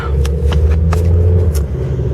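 Small Mazda car driving along, a loud close interior road rumble and engine hum with a few short clicks and bumps, no talking.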